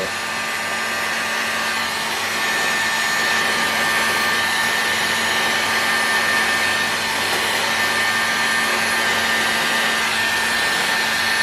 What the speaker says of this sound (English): Trying not to blow hot air all over my hand.